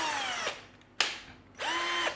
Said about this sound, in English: let's see how it's screwing into these 3 layers of wood